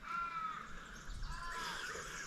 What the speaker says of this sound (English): I can hear crows all over the ones that got shot by the chopper